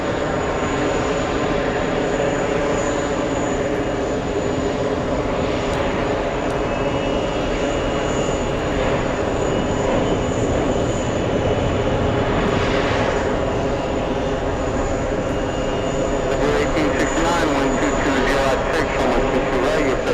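A South Korean government Boeing 747 goes around at JFK, its engines producing a loud, continuous jet roar that holds steady throughout with a faint high whine on top.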